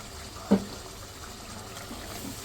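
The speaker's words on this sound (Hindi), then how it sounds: "अब मैं इसके अंदर डाल रही हूँ दही।" Whisked yogurt drops into a pan of frying mutton curry for achar gosht, landing as one brief soft plop followed by a faint, low background bubbling.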